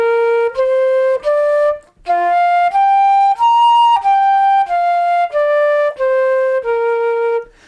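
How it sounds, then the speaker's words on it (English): A band instrument plays a major pentatonic scale, clear sustained tones stepping up and back down in an even rhythm, about a dozen notes, close and loud with no talking. "You can play this pentatonic, it's called major pentatonic scale."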